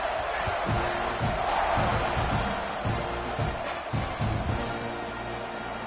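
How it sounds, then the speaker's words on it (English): A football stadium crowd at a Texas Tech versus Texas A&M game roars steadily during a kickoff, a loud continuous wash of massed voices with a few sharper shouts and surges. "This place is roaring"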